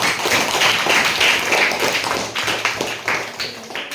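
A small group claps, a loose patter of applause that thins out toward the end.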